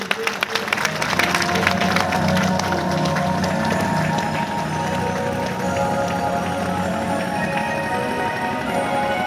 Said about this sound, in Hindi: हमारे परिचित जी और उनकी सपत्नी को जोरदार ताली बजाइए